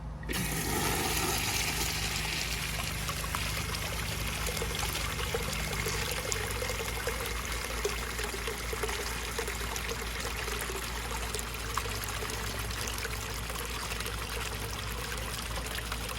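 A Universal Rundle Colburn urinal with a flushometer drains after a flush. Water pours and trickles in a steady, continuous rush that stays close and even throughout.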